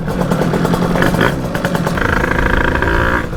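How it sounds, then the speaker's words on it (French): A motorcycle engine runs loud and close, idling low with a rough, clattering sputter and irregular popping backfires throughout. "La moto elle pétarade beaucoup."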